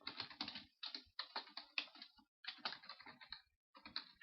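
Typing on a computer keyboard while naming an item in Minecraft, close rapid key clicks in short bursts separated by brief pauses.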